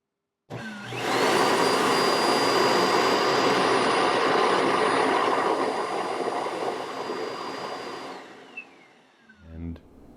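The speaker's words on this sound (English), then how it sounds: "the dock actually sucks all the dirt and dust out of the Dustin" The charging dock of a bObsweep Dustin robot vacuum switches on and sucks dirt out with a loud, steady whooshing whine that holds for several seconds, then winds down and stops, ending with a few light knocks.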